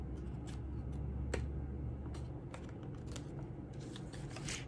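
Scissors cut paper for a mini album craft project, making soft, quiet snips and rustles in an irregular series against a low background hum.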